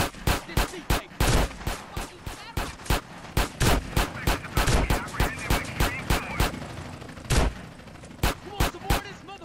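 Rapid pistol gunshots in GTA San Andreas, a long run of sharp, loud cracks fired in quick irregular bursts with short gaps between them.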